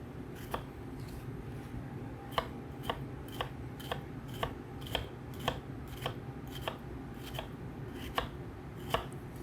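A knife chops an onion on a cutting board in a steady series of about fifteen crisp, sharp taps, close but fairly quiet over a low background hum.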